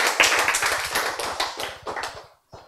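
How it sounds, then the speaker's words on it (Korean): Clapping from an audience at a health lecture, a few people striking their hands hard in an uneven patter that runs steadily, then breaks off briefly and resumes near the end. "박수를 세게 치는 사람도 있고"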